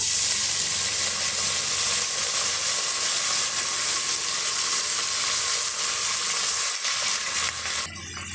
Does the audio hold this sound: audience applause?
no